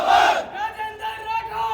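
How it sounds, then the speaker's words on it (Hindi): A large crowd at a BJP workers' conference in Bidasar lets out a loud, brief roar that settles into a sustained chant-like shout. "भारी भीड़ आप देख रहे हैं यहाँ पर"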